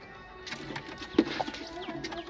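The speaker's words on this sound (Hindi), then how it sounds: "बड़े जबरदस्त कबूतर है, पंजाबी कबूतर है प्योर" Punjabi pigeons coo softly and repeatedly close by, with light rustling and faint background noise.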